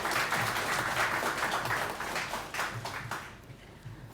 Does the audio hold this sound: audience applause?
yes